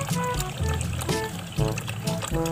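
Water poured into a container for a thirsty pet, a steady close trickle and splash running under some background noise.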